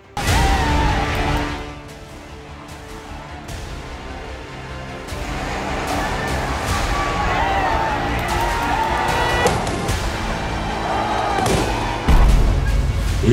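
A large crowd of protesters surges into Sri Lanka's presidential palace in a loud, dense roar of shouting and babble, with bangs and swells, heard continuously and fairly close.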